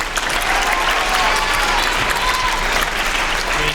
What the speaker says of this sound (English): Can we clap it up one more time for everybody?